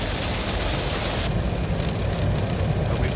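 Heavy rain drumming on a car while driving south through mountainous country at night, a dense, steady wash of loud noise that shifts slightly partway through.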